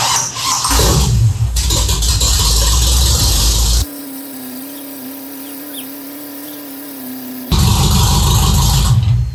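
A race car being rebuilt from a wreck, with freshly filled power steering, bursts into loud, harsh mechanical roaring, drops to a steady droning idle hum, then roars loudly again near the end.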